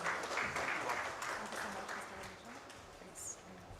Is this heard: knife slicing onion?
no